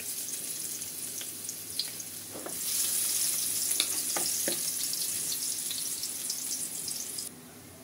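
Garlic hits hot oil in a pan for tinolang manok and sizzles loudly, the frying hiss jumping in level partway through, with a few soft knocks of a utensil and no talking.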